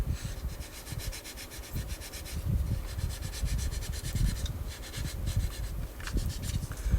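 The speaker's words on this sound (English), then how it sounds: "in the area where it needs a smooth surface, I use my cheap sanding stick from China." Cheap sanding stick rubbed over a plastic 1/24 Audi Sport Quattro S1 model car kit part, giving quiet, continuous scratchy strokes in an uneven back-and-forth rhythm at close range.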